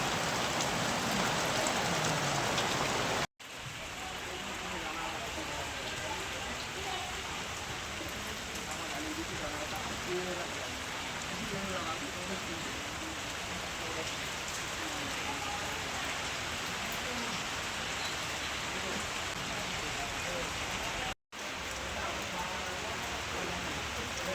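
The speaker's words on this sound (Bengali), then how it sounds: "হ্যাঁ দেখো বাইরে কি অবস্থা, বৃষ্টি পড়ে" Steady rain falls outside in a village during the monsoon season, a continuous even hiss of drops on surfaces that runs on throughout with two brief cuts to silence.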